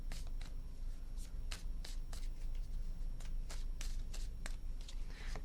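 Tarot cards being shuffled by hand, a run of crisp riffling bursts repeating at a quick, uneven rhythm, close and fairly quiet.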